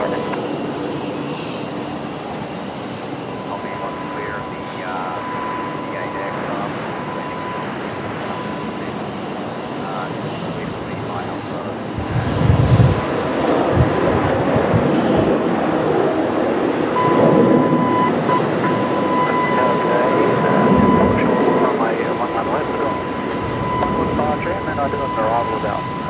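A Virgin Boeing 737 lands at Brisbane Airport at night. Its deep broadband roar swells around the midpoint and stays loud over a steady background hum, with voices audible throughout.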